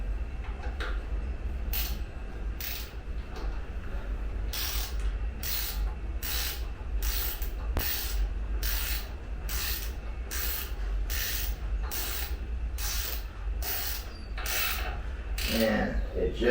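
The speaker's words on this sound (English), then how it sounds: "So we'll go back to the torque wrench." A torque wrench ratchets repeatedly while bolts are tightened on a Screamin' Eagle Heavy Breather Elite air cleaner on a motorcycle, a steady series of sharp clicking bursts, with quiet background between strokes.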